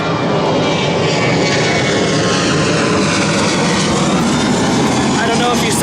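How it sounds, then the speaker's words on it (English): An airplane passing overhead makes a loud, continuous broadband roar that stays steady throughout, with a faint higher whine near the end. "it's a plane. Not a bird, not Superman."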